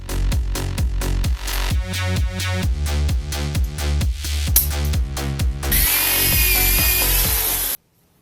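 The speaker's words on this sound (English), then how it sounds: "Then I marked and drilled a hole on the other end of the brackets." A power drill bores a hole in a radiator bracket on a Project 240 drift car, giving a steady, loud whirring grind for about two seconds near the end, after a stretch of rhythmic, tonal sounds.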